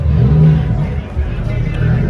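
Car engine idling and revving at a university car show among a 2020 model, a 95 Civic and a red 2007 Corolla, a steady low rumble with crowd chatter and voices around it.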